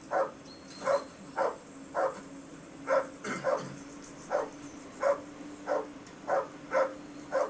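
A dog barks in a video game set in medieval Bohemia, Kingdom Come: Deliverance: about a dozen short, evenly spaced barks at moderate distance over a steady low hum, with no talking.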